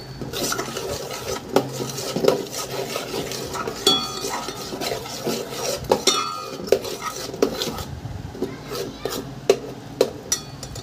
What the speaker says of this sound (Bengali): ধনিয়া পাউডার, জিরা পাউডার। ভালো করে মিক্স করে নিতে হবে।